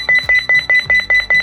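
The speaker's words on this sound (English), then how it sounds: "our Angel Care monitor, which has a motion sensor alarm that sounds like this." An Angelcare baby monitor's motion sensor alarm beeps close and loud, a rapid, evenly spaced series of seven sharp electronic tones.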